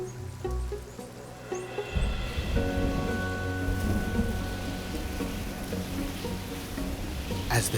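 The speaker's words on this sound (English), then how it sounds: "the shower starts to evolve into a storm" A rain shower building into a thunderstorm in a forest: steady rain hiss with heavy rumbling thunder rolling in after a couple of seconds, continuing under the downpour.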